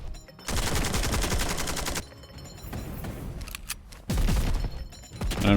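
Bursts of rapid automatic gunfire from a Warhammer 40,000 video game, loud and dense, coming in several sustained volleys separated by brief lulls.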